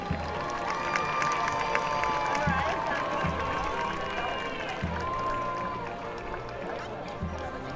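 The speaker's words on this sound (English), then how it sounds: "Let's have a round of applause for your senior princess, Veronica Palacios" A football game crowd cheers and claps for the senior princess during a homecoming presentation. Sustained, distant cheering mixes with scattered shouts and applause, and a few loud thuds punctuate it.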